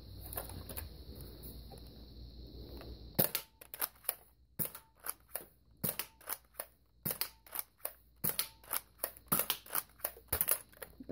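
Nerf N-Strike Elite Strongarm blaster fired repeatedly, a close series of sharp plastic snaps and clacks in quick succession, each shot followed by the ratchet of priming, after a short quiet lead-in.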